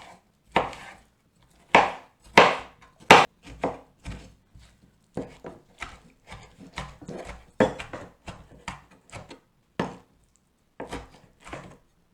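A knife roughly chopping peeled food on a board for a vegan burger makes sharp, irregular thuds. Some come in quick clusters, others are spaced apart, each close and crisp against a quiet background.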